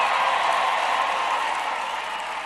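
A dense, steady roar from a packed crowd at a Donald Trump political rally in State College, Pennsylvania, continuous cheering and applause filling the arena with no break.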